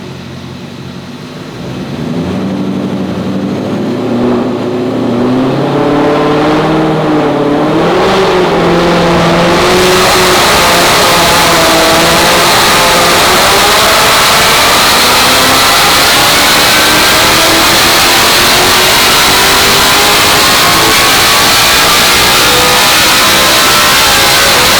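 Roush Mustang making about 1,100 wheel horsepower on a dyno, its engine building from a loud rumble into a roaring, rising full-power scream that stays close and continuous to the end.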